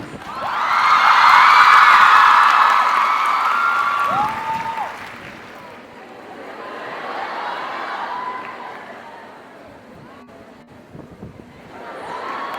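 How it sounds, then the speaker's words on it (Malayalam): A crowd at a live dance performance claps and cheers loudly for a few seconds, then the applause fades to scattered clapping and murmurs. "ലൈഫിൽ ആദ്യമായിട്ടാണ് ഇത്രയും പേര് ഞാൻ ഇങ്ങനെ വന്നേക്കുമ്പോൾ കൈയടിക്കുന്നത്."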